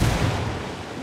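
Grenade blast in the Ghost Recon Wildlands shooter game, a single heavy booming explosion with a dense low rumble that stays loud and decays slowly across the short span, no voices.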